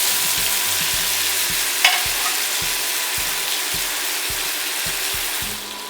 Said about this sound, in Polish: przewracam kurczaka na drugą stronę i znowu smażę do zrumienienia